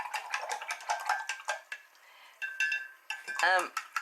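A water brush is rinsed out with quick splashing, dabbing and tapping against a small container, in short irregular bursts with a brief pause midway.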